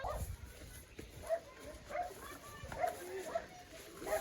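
Dog barks and yips come from outdoors beside village farm fields in rainy weather, a few short calls scattered across the clip, moderately distant, with people talking over them.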